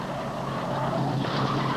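Tires of a stock car squeal and skid on a short oval speedway track after a crash into the wall, a sustained shrill scrub with engine roar underneath, moderately close.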